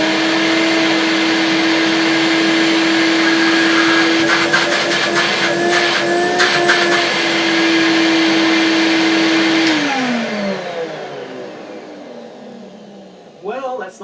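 A 1980s Hoover Compact S3196 vacuum cleaner runs with a steady, loud motor whine and airy rush, heard from a few feet away, then winds down in a falling tone as it is switched off, with a brief clunk at the end.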